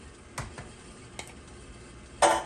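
A can of Rotel diced tomatoes tipped into a pan for creamy chicken nachos, with light stirring and clinks before a sudden loud, wet splattering rush near the end.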